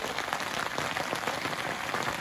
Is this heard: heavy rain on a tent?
yes